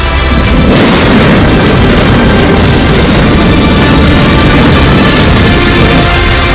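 A massive, continuous roar of dynamite blasts demolishing the Noida twin tower buildings, loud and sustained, rumbling heavily with no voices present.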